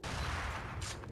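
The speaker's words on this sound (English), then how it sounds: "Gonna shoot at him with a shotgun from back here." Shotgun blasts in Fallout 76, fired from a distance at a camping player, come as a dense, continuous burst of booming gunfire that fills the whole moment with no talk.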